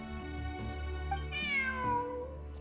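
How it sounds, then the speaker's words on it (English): A cat meows in the video game Genshin Impact, a rising then falling drawn-out mew that stands out clearly over a steady background tone, close and fairly loud. "Look! A cat!"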